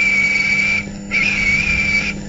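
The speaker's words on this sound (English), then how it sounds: "Edward whistled." Steam engine whistle blown in two long, steady, shrill blasts separated by a short gap, loud and close over a low rumbling background.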